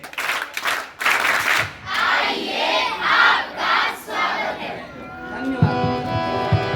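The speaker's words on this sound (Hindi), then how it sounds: "स्वागत ताली।" Welcoming applause and cheering from a crowd at a Gandhi Jayanti event held by Bharat Scouts and Guides in Rohtas district, a dense, steady clatter of clapping with crowd noise, fading into a busier murmur of voices near the end.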